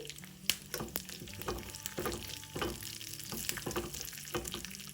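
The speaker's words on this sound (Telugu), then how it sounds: "దీనిలో కొద్దిగా కరివేపాకు వేసుకుని వేయించుకోవాలి." Crushed peanuts and curry leaves frying in a pan, a close crackling sizzle with frequent sharp pops and scraping stirs, no voices.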